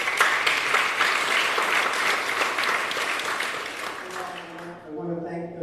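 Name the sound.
audience applause for a guest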